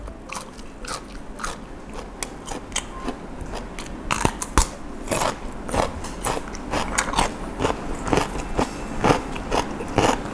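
Giant cockles being bitten and chewed up close, with loud wet crunches and cracking snaps in an irregular stream of mouth sounds and no talking.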